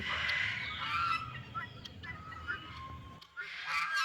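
Geese honk repeatedly and loudly on a bird farm behind an aviary that also keeps turkeys, chickens and pigeons, their calls overlapping in close, uneven bursts with no talking.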